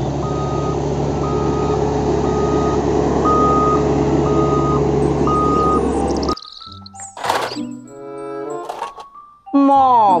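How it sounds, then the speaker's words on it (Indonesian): A toy garbage truck gives steady repeating reversing beeps for about six seconds, loud and close, then cuts to brief chirpy electronic toy sounds. "Mobil truk sampah."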